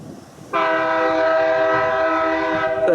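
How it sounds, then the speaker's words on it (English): A train horn sounds one long, loud, steady chord close by over a low rumble in McGregor, Iowa, along the Mississippi River, then cuts off near the end. "You can hear the train coming through."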